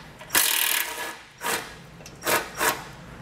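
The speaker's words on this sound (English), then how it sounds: "We're using our 10mm socket for that." A ratchet with a 10mm socket working loose screws on a support brace during a base plate install on a 2019 Ford Fiesta, heard as several short, close bursts of rapid clicking separated by pauses.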